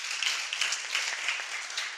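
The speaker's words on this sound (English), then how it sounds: "Please give her a round of applause." Steady applause from a crowd after a speaker at a workshop event, dense clapping sustained throughout with slight swells, fairly distant and even.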